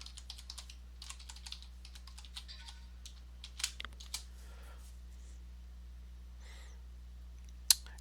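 Quiet, steady keystrokes on a computer keyboard as a password is entered on a Linux Mint system, a run of light clicks with a few louder taps, one sharp key press near the end, over low electrical hum.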